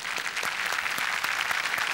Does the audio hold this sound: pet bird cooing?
no